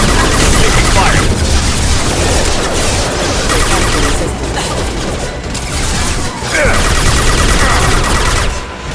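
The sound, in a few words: gunfire in Mass Effect video game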